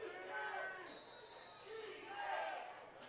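A football crowd in Exhibition Stadium roars and shouts to rally the defense, a broad wash of distant yelling with rising and falling cheers, under a commentator's voice.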